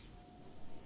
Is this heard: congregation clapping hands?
no